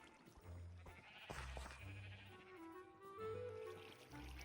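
Sheep bleat in modded Minecraft, a few close, clear calls in sequence with no talk over them.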